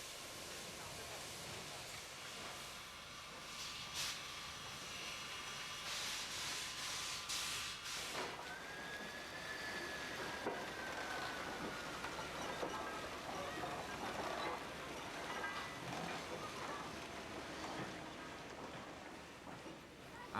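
QJ class steam locomotives being prepared at a coal-fired depot yard in Harbin, with steady hissing steam, short bursts of venting and a drawn-out whistle-like tone over continuous low rumble and background activity.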